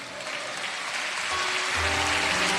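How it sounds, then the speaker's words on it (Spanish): Applause from a church congregation during a Spanish-language sermon, a steady broadband wash of clapping that builds slightly louder toward the end, with faint low tones underneath. "Aplausos para Cristo."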